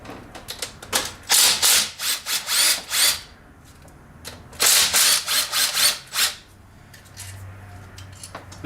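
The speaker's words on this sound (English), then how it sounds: "Ratchet, where's my zippy gun?" Air ratchet, a zippy gun, spinning engine bolts loose during a teardown to remove both heads, heard as two clusters of sharp, loud rattling bursts, each several seconds long, with quiet gaps between them.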